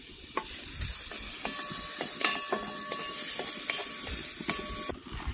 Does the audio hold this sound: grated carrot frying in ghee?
yes